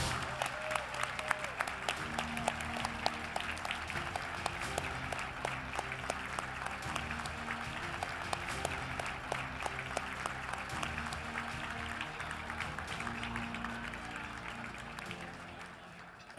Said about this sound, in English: I'd like to have all the finalists stand up and give them a great hand of applause.